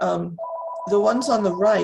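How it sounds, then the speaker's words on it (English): A telephone rings with a steady electronic tone between stretches of talk, fairly close and clear, with speech before and after it during a signature authentication training session. "that phone never rings, which is why I don't know how to turn it off"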